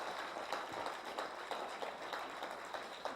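Faint, distant applause from a seminar audience, a steady soft patter of clapping hands with a few sharper claps poking through, low in level throughout.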